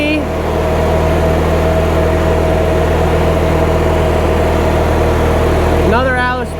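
An Allis-Chalmers B tractor idles at an Allis-Chalmers show, a steady loud engine drone with a constant low hum, and a voice briefly cuts in near the end.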